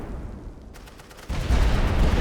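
Battlefield fire in a World War I game begins as a faint patter of distant rifle shots, then swells into a loud, dense roar of continuous gunfire and explosions that fills the second half.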